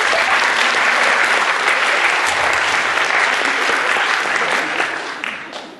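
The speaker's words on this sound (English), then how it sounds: "Give them another round of applause, please." An audience at a university youth event gives a sustained round of applause, dense and loud for several seconds before gradually thinning out toward the end.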